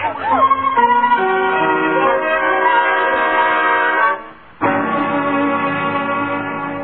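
A train sound effect in a 1940 radio drama: a sustained, loud, chord-like horn or whistle blast that drops out briefly and then resumes, with no talk over it.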